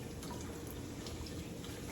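A kitchen tap runs steadily while vegetables are rinsed under it, a soft, even hiss of flowing water with no voices.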